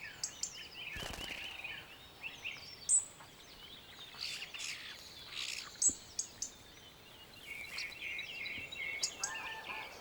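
Flock of gregarious starlings calling outdoors, a busy layer of overlapping chirps, whistles and tweets with occasional louder sharp calls standing out over steady chatter, no talking.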